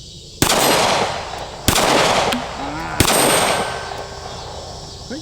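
Three loud, sharp shots from a Taurus G3C pistol crack about a second apart outdoors, each followed by a long reverberating decay, with brief faint ringing from a steel target after the shots.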